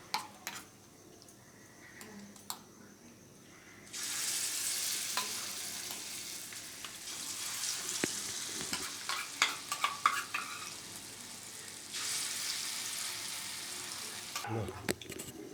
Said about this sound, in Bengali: এবার বাকি বাকি বড়াগুলো ভেজে নেব।